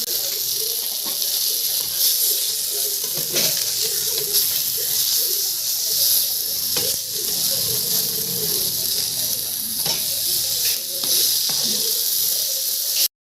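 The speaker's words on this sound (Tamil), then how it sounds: "இப்போ இந்த மீன்லாம் வந்து நல்லா ப்ரௌனிஷாக வர மாதிரி நம்ம வந்து ஃப்ரை பண்ணிக்கணும்" Vanjaram fish fries in hot oil, a steady broadband hiss and sizzle running unbroken through the whole stretch with occasional sharper crackles and pops.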